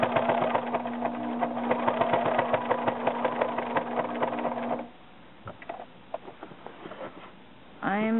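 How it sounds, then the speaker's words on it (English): A commercial sewing machine rated for many layers of denim runs steadily through fabric for a wrap skirt, a loud continuous motor hum, then stops and leaves a quieter stretch of small handling clicks before a brief final sound. "I'm using a commercial machine, and it's supposed to sew through something like 8 layers, 10 layers of denim"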